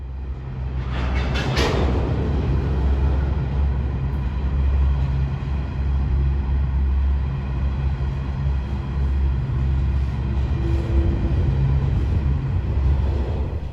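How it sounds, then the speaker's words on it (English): A coal freight train brakes, with a deep continuous locomotive drone and rumbling wagons, a sharp clank early on as the cars buffer into one another, then steady rolling noise, with no voices. "Listen out for the domino effect as the train brakes."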